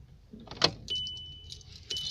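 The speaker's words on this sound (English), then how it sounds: "Switch off the car." A 2014 Volkswagen Passat B7 is switched off nearby, a brief click and rustle of keys followed by a steady electronic tone that drops out and returns, with no talking.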